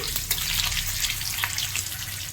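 Dried and green chillies are stirred in a hot pan for a sour star-fruit dish, giving a steady close sizzle broken by a few scraping strokes of the spatula, with no voices.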